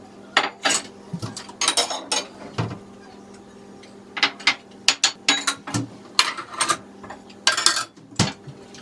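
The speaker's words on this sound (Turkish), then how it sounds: "Ben de bulaşık makine durmuştu. Onu boşaltayım hemen." Dishes, cutlery and pots being unloaded from a dishwasher in a home kitchen: a steady run of sharp clinks, clatters and scrapes at close range, with brief pauses between handfuls.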